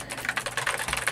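Rapid typing on an 8Bit retro keyboard fitted with Kailh Box White switches, a dense run of crisp, clicky keystrokes captured up close with no voices.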